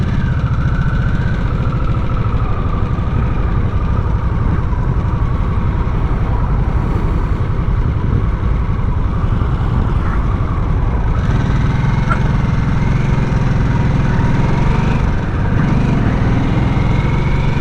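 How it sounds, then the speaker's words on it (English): A Harley-Davidson Nightster Special, a light motorcycle, on the move: a steady, loud engine drone throughout, with a slight change in pitch partway through as the ride continues. "Shifts nice and easily, and it doesn't have that traditional Harley clunk"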